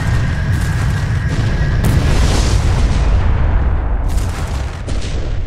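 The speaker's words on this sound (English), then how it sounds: "It's gonna explode." An explosion in the space combat game FreeSpace 2 booms loud and sustained, a dense roaring blast with a few sharper bursts layered over it and no talk.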